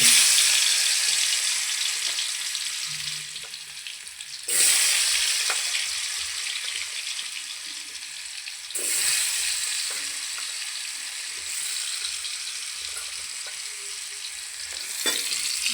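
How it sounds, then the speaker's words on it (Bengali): Potato pieces fry in hot oil for a spinach dish, a steady hissing sizzle that surges sharply each time the pan is stirred or more is added, close with no talking. "এবার দেখুন আমাদের তেলটা গরম হয়ে গেছে এর মধ্যে আলুগুলো দিয়ে দিব"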